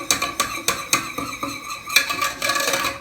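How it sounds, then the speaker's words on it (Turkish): Béchamel sauce for lasagna, seasoned with salt, pepper and thyme, is stirred in a pot, giving close, rhythmic scraping and clinking of the utensil against the metal, about ten strokes in quick succession. "Şöyle bir karıştırıyorum."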